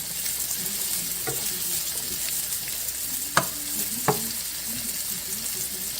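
Chicken sizzles steadily in a hot skillet with a little oil over near-high heat, a continuous close frying hiss broken by two sharp spatter pops, with no talking.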